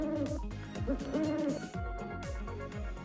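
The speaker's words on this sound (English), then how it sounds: "That was the hoot of an owl." An owl hoots in a quiet, low, repeated series of rhythmic calls, clear and fairly faint, with no talking.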